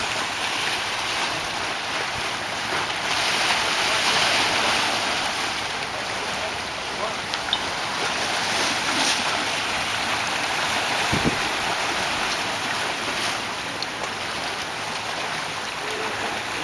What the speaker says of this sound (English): listening to the sounds of the waves.